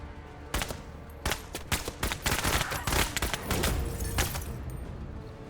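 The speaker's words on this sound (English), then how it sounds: "We'll shoot another shot here with 5." Rapid bursts of gunfire from the video game Menace, loud repeated volleys and single shots crackling in an irregular rhythm across the whole stretch, with no talking.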